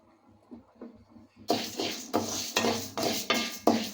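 Quiet clinks at first, then a series of louder metallic clatters and scrapes as a cooking pot for roasting red rice is moved and handled up close.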